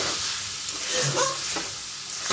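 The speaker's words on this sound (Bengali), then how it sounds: "এবারে পরিমাণ মতো হলুদ দিয়ে দেব, স্বাদ মতো লবণ দিয়ে দেব। ভালো করে নাড়িয়ে নেব।" Turmeric and salt stirred into a hot frying pan while cooking rohu fish curry with potato and taro stems: a steady close sizzle with a few soft spoon scrapes, no voices.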